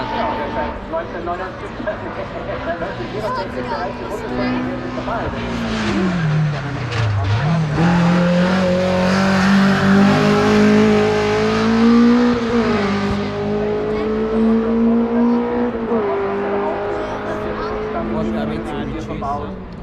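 Race cars at the Rechberg hillclimb roar past in succession, engines revving and climbing in pitch through gear changes, loud and sustained with a brief tire squeal, while a commentator talks over the noise.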